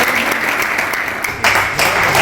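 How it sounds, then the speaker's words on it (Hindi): A crowd at a Bhagwan Parshuram birth celebration claps loudly in welcome, a burst of dense applause that swells near the end. "जोरदार तालियों से स्वागत करें।"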